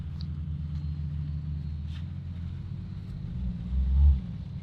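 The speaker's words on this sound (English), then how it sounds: "They're doing a little drag race." Two lifted Jeep Cherokees, a 3-inch lifted Grand Cherokee and a 4.5-inch lifted regular Cherokee, drag racing, a low distant engine rumble that swells briefly toward the end.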